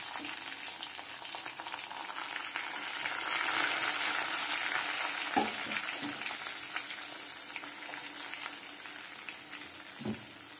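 Ground gongura (sorrel leaf) paste frying in hot oil in a pan for pickle, a close, continuous sizzle and crackle with a few soft clicks and scrapes.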